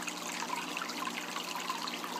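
Steady water flow from a canister filter running in a 90 gallon cichlid aquarium, a continuous close trickling and splashing hiss with small bubbly flutters and no pauses.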